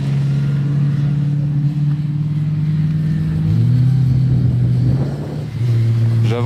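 A Ferrari Daytona Spider drives on a frozen ice circuit, its engine droning loud and close with a steady low hum that shifts pitch midway as it accelerates, then settles again.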